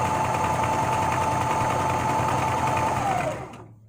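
A sewing machine stitches steadily at close range, a continuous whirring motor hum with a fine mechanical rattle that runs evenly for about three seconds, then slows and winds down to a stop near the end.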